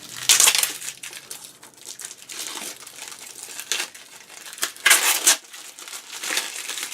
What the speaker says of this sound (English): Now we have this part right here, and I just tear this off the bottom side.